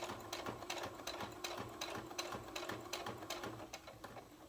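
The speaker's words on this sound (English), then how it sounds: "pedal on your sewing machine" A sewing machine runs steadily at close range, its needle clicking in a quick, even rhythm over a soft mechanical hum.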